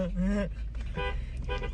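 A car horn gives a short toot near the start, and speech and road noise follow during a drive with dogs in the car.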